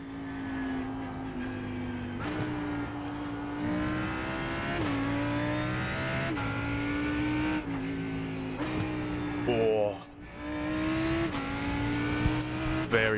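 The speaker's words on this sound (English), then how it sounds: "I dropped down gears with too many revs on the car and it kicked the back of the car out." Race car engine in a sim racing game at Spa, revving high through a downshift as the rear steps out; a steady loud engine drone with rising pitch sweeps and a brief dip near the end, one short spoken word.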